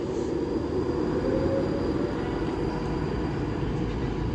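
A delayed CrossCountry passenger service from Bristol Temple Meads to Manchester Piccadilly running through Stoke-on-Trent station on the West Coast Main Line, a steady loud rumble and engine drone holding level throughout.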